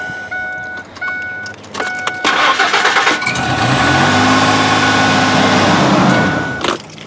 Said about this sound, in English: This is the starter, and she starts up just fine.